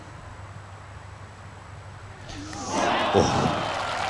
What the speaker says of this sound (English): Wait for the cheer.